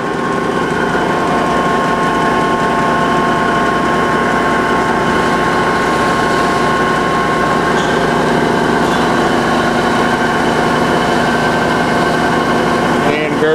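Ohmiya centerless grinder running, a loud steady mechanical hum and drone with faint tonal whine throughout, continuous and close with no clear change in pitch.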